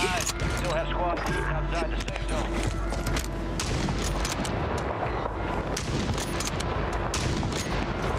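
Rapid bursts of gunfire in a Call of Duty Warzone match, repeated shots and automatic fire crackling continuously under a player's excited talk.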